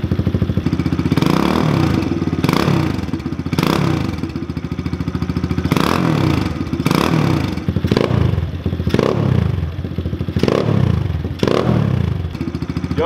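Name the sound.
Kawasaki KLX 110 pit bike revving with Pro Circuit T6 exhaust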